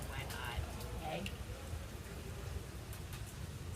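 Steady rain falls on a rainy day in South Beach, a constant close hiss of drops lasting throughout, with faint voices murmuring underneath.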